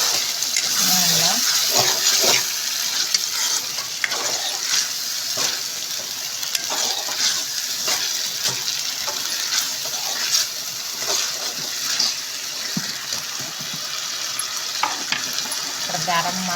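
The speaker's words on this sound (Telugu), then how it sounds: "అల్లం పేస్ట్ వేసుకోవాలా. వేసుకొని బాగా కలుపుకోవాలా." Ginger paste being stirred into fried tomato in hot oil, with a steady sizzle and scraping of the spoon in the pan running throughout, and occasional talk over the cooking.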